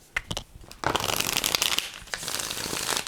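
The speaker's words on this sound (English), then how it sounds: "One more shuffle." A deck of tarot cards is shuffled by hand: a few quick riffles open, then a long, crisp flutter of cards, close and alone.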